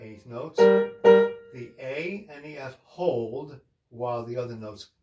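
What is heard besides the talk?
No everyday noises stand out.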